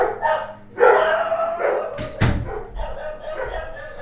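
Several dogs bark and yip in a lively burst, with a few loud close barks and some howl-like yelps in a room, the barking continuing unevenly for about four seconds.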